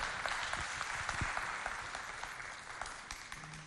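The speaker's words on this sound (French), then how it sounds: "Est-ce qu'on peut l'applaudir très très fort, s'il vous plaît?" An audience applauds a governor's representative at a public event in N'Djamena, Chad, a steady, fairly faint patter of clapping from a crowd that carries on throughout without any talk.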